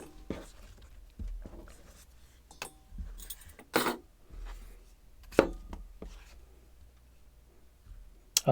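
A knife slices a cucumber on a cutting board in thin 2–3 mm rounds, giving soft, irregular taps and clicks spaced through a quiet background.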